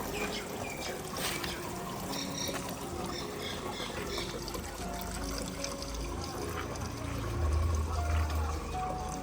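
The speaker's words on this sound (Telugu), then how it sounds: "5 లీటర్స్ వాటర్ ఫిల్ చేస్తున్నాను. ఇది 5 లీటర్స్ ట్యాంక్." Water is poured into a 5-litre manual garden sprayer tank through a filter, a soft continuous trickling fill that runs throughout, fairly faint, with a low hum rising near the end.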